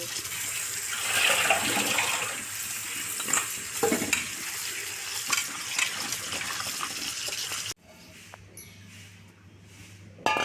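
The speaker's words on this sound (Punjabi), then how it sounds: "ਹੁਣ ਆਪਾਂ ਅਰਬੀ ਨੂੰ ਪਹਿਲਾਂ ਛਿੱਲ ਲੈਣੇ ਆ ਜੀ ਛਿੱਲ ਕੇ ਤੇ ਆਪਾਂ ਹੁਣ ਧੋ ਲੈਣੇ ਆ" Peeled taro root being washed under running water, with a continuous splashing flow and a few clunks of handling, then a sudden drop to a quieter tail with soft rustles.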